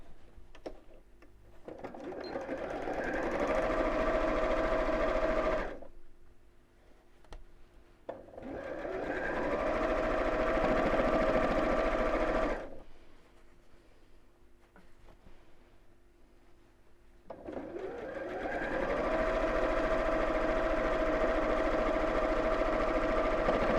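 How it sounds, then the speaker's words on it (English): A sewing machine stitching straight across the top of a large tie tote bag whirs steadily in three long runs, each several seconds of even motor buzz separated by quieter pauses, close and without talk. "we'll sew straight across the top"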